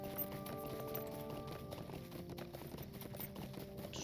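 Horse hooves clop at a riding pace in Lord of the Rings Online, a soft steady patter under a sustained musical background, with no voices.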